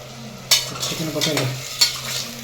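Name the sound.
sautéing tomatoes with ginger garlic paste for biryani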